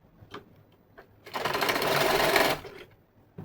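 An electric sewing machine stitches pants fabric in one steady, loud whirring burst of about a second, framed by quieter handling and clicks before and after.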